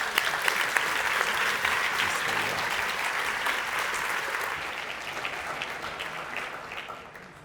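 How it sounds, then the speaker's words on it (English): An audience at a National Reconciliation Week breakfast applauds steadily as a Noongar elder walks to the stage, a dense continuous round of clapping that holds strong and then slowly fades near the end. "a round of applause as she makes her way to the stage"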